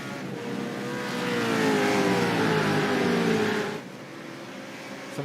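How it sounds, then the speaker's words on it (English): Supercars race cars at the SDI SuperCars NZ round 6 championship race roar past on track, a loud sustained engine howl with a falling pitch sweep before dropping to a lower drone. "Some fantastic racing on the SDI SuperCars NZ round 6."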